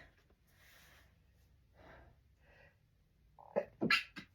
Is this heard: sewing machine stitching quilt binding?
no